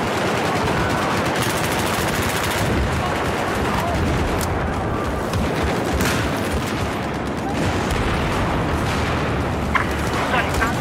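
Rapid automatic gunfire and bursts of shots from the video game Battlefield 4, dense and continuous with explosive booms, loud throughout with faint talk mixed in.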